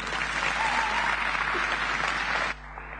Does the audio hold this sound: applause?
yes